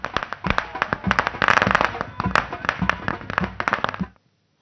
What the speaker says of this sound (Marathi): महाराष्ट्र नवनिर्माण सेनेकडून हे आता फटाके फोडून सध्या जल्लोष साजरे